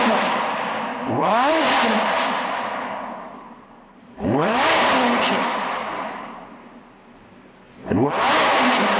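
A sports car in race mode revs hard three times in succession, each loud, close blast climbing in pitch and then falling away into a lower burbling pause before the next pull.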